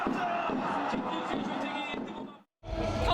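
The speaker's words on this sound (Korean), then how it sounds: "경기 내내 광장엔 환호와 탄식이 교차했습니다" Large rain-soaked crowd of about 2,500 fans in red at a World Cup street viewing before a giant screen in Gwanghwamun Square, Seoul, roaring and cheering in a dense, continuous wash, briefly dropping out before surging back.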